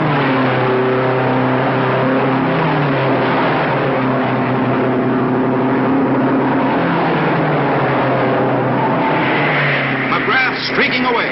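Racing cars at a 1955 race roar past on the track, a sustained loud engine drone with shifting pitch as cars streak by, heard under an announcer's ongoing commentary in an old recording.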